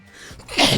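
A single sneeze, building from a short indrawn breath into a loud, close burst of air.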